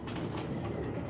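Domestic pigeons in a loft murmur with a steady, low cooing that runs unbroken and fairly close, with no voices over it.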